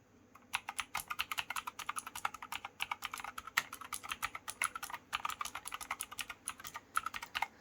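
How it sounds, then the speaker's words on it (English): Steady typing on a Razer BlackWidow V4 Pro with green clicky mechanical switches, giving a fast, close, bright stream of crisp clicks that pauses briefly midway. "Full mechanical switches in green and clicky, so they sound clicky."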